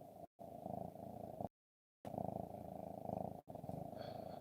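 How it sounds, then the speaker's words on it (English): A house cat purrs in a low, continuous rumble close by, broken by a couple of brief dropouts, with no talking over it. "cat is purring."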